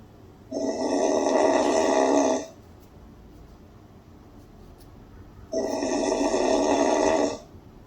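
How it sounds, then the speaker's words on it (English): A sleeping person snores in two long, loud drawn-out breaths separated by a few seconds of quiet, each rasping snore close and steady before cutting off. "You are snoring. Turn on your side."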